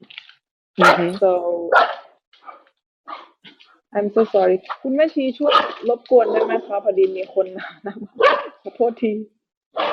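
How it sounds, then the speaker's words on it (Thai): Dogs bark in several sharp, yelping bursts, close and loud, mixed in with and partly under someone talking steadily. "หมาเห่ามาเยอะมากเลย"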